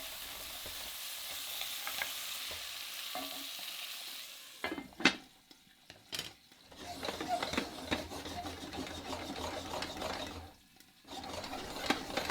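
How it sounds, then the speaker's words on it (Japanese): Lobster cooking with butter in a covered cocotte on the heat, giving a steady soft sizzle with occasional stirring clatters and lid knocks, fairly quiet and continuous throughout. "バターを入れたらバターが全体になじむようによく混ぜて、もう一度蓋をして火を入れていきます"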